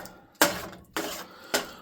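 A spoon scraping and clanking against a cooking pot while food seasoned with a dash of salt is stirred, three distinct strokes, each a sharp metallic scrape fading out, close and loud with no talking.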